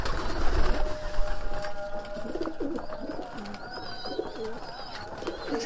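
Homing pigeons coo repeatedly in soft rolling calls, close by, over a background of scattered bird chatter and faint ambient noise.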